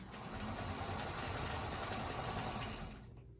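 A sewing machine stitches a table runner in a steady, loud, continuous whir with a fast mechanical needle rhythm that winds down at the end.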